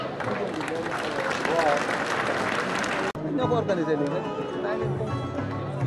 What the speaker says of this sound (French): Sous vos applaudissements, sous vos applaudissements.